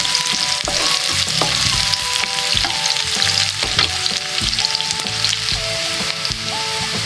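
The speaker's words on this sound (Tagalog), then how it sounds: "i-igisa natin yung mga spices na to hanggang medyo mag-golden brown" Spices, onions and garlic sautéing in a pan for pineapple chicken, a loud continuous sizzle and crackle close by, with stirring knocks and a few faint tonal beeps over it, no talking.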